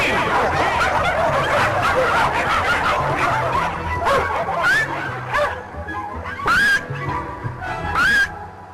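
Chihuahuas barking and yipping, a dense chorus of small high-pitched barks that thins into a few sharp separate yips, close and loud.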